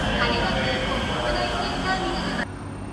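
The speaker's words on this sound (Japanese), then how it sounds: "6番線の普通電車もう出るので" Keikyu local train standing at a station platform before departure: a steady, loud rumble of platform and train noise with a voice faintly present, dropping abruptly quieter near the end.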